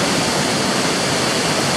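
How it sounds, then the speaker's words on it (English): Waterfalls at Plitvice National Park in Croatia roar as a steady, dense rush of falling water, loud and close with no break, and no voices over it. "these waterfalls are crazy fantastic"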